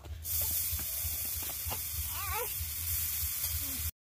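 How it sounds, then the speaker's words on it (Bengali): Sugar-coated grated coconut dropped into a hot wok, a close hiss and sizzle holding steady for several seconds with faint scraping underneath, no talk. "কড়াইটা গরম হয়ে গেছে, আর আমি এখানে চিনি মাখিয়ে রেখেছিলাম নারকেলে, এবার নারকেলটা দিয়ে দেবো।"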